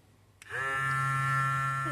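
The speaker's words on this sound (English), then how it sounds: "So I'm going to just seal this with a vacuum sealer and call that done." A vacuum sealer sealing a bag of dehydrated soup mix: a click, then a steady, fairly loud electric motor whine that starts suddenly and holds evenly to the end.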